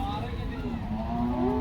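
A cow at the Loni cattle market in Maharashtra gives a long, drawn-out moo that wavers in pitch. It sounds close and fairly loud against a steady bed of market noise and voices.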